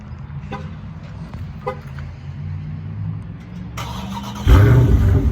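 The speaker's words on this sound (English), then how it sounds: "we gotta get the cold start in" A 2020 Dodge Scat Pack sits idling with a low rumble and a few light clicks, then near the end its engine fires in a cold start with a sudden loud, deep roar that stays strong to the close.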